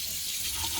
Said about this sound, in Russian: Давайте с вами посмотрим напор воды.